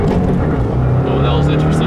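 A tuned 2015 Subaru WRX engine drones under full throttle with a rising pitch as it accelerates, heard from inside, with a voice talking over it.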